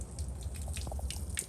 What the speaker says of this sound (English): All that water I got up in that door.